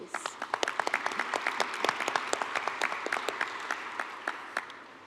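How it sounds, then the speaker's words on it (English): An audience at a plenary session of a geospatial information congress claps steadily, a sustained round of applause from a medium-sized crowd with distinct hand claps throughout. "let's give our hosts a round of applause, please"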